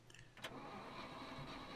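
A quad bike engine in the survival game Scum cranks briefly and catches, then settles into a low, steady idle rumble.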